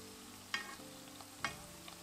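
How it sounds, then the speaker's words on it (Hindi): Thin wheat-flour mathri fry quietly in oil, a soft steady sizzle with two brief clinks of a utensil. "साढ़े फ्राई होण डे आ देखो"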